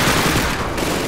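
Rapid submachine gun fire from Call of Duty 2's Red Army training, a dense, continuous burst of close, loud shots lasting about a second with no pauses.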